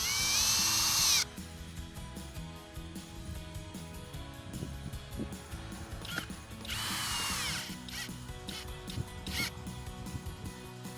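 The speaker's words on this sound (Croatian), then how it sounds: "samo sa evo u ovom slučaju bušilicom učvrstimo ova 3 šarafa." Cordless power drill driving three screws to fix a mounting bracket for an ANNKE WB400 solar security camera: a loud opening whir, then several shorter bursts of motor whine, all over steady background music.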